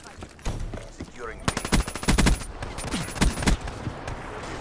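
Shotgun gunfire in a video game: loud, close blasts fired in rapid clusters with a few brief gaps, plus softer game effects around them.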